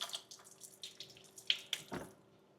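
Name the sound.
rinsing sorrel under running tap water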